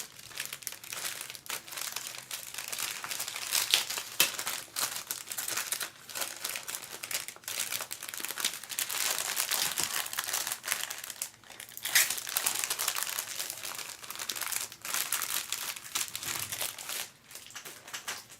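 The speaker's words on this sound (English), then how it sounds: "I'm being outsmarted by a plastic bag" A plastic bag crinkles and crumples continuously, close and fairly loud, with irregular rustling bursts throughout and no talking.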